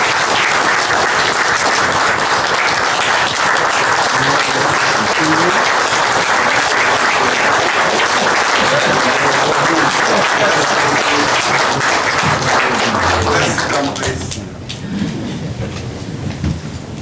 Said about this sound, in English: A round of applause for His Excellency the President.